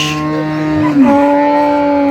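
A cow moos loudly and close by at a busy cattle market in Ambari, Dinajpur, where dairy cows and calves are sold: one long, sustained, tonal low, alone in the foreground.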